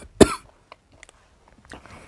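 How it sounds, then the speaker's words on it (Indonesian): A single sharp, close cough bursts out and is followed by near silence with a few faint small noises. "Batuk saya."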